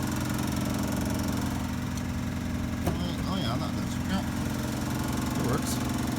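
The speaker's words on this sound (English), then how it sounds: "The 83 Buick is a runner. With all its clattery noises and all." A 1983 Buick Electra idles after a cold start, its engine giving a steady, clattery running drone up close, with a few faint clicks and a voice briefly audible over it.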